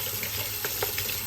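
Tap water runs steadily into a sink to rinse freshly dyed CDC feathers in fluorescent orange and coral, a soft continuous splash with a few brief brighter spatters.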